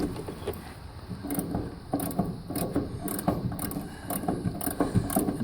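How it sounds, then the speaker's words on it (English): A wrench ratchets a water heater valve open, giving repeated sharp metallic clicks in uneven bursts, close and clear, with no talking. "So I can now open the valves with that wrench."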